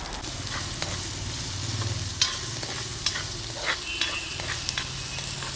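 Onions and green chilies fry in hot oil with mustard seeds and curry leaves for a Kerala koorka dish, a steady close sizzle with occasional stirring scrapes and small pops, no talking.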